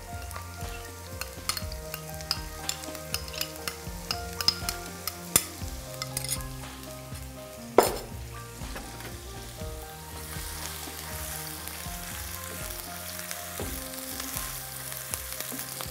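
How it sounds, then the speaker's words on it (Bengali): About a cup of chopped onions fries in hot spiced oil in a pan, giving a steady close sizzle punctuated by frequent clicks and scrapes of stirring, with one sharper clatter midway. "এবার এর মধ্যে কুচি করে রাখা পেঁয়াজ আমি 1 কাপ পরিমাণ দিয়ে দিচ্ছি"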